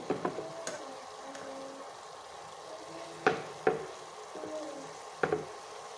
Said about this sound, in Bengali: নেড়ে এখন রান্না করে নেব